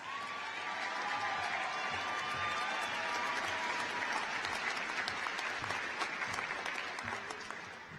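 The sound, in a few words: audience applause at a high school graduation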